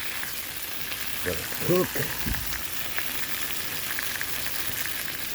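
BBQ chicken legs in honey barbecue sauce sizzling on a Blackstone grill with the fire off, a steady, dense hiss near the mic with a brief stirring clatter and a short spoken line.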